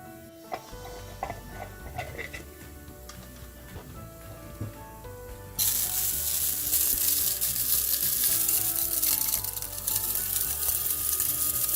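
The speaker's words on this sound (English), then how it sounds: "We're going to grind the coriander seeds, the cumin or jeera seeds, and the peppercorns." Electric spice grinder whirring loudly through coriander, cumin and peppercorns, starting abruptly partway in after quieter kitchen sounds and running steadily, close and harsh, to the end.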